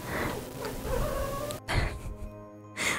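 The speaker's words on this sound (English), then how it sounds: "The cat keeps replying every time I say something a little bit louder because he's always sleeping." A cat in the video game Fran Bow meows in reply, a few short, mid-loud calls with quiet gaps between them, heard alone without talking.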